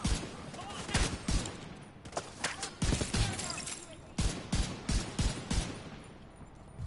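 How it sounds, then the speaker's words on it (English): Repeated explosions and bursts of gunfire in a video game set in a park, loud and close, coming in clustered volleys with short gaps, with no talk over them. "These explosions are really messing up the park."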